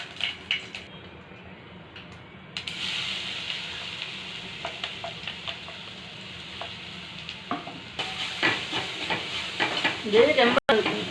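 Coriander leaves sautéed in a small amount of oil in a pan for rasam give a steady, soft sizzle, with brief scraping stir strokes growing busier and louder toward the end.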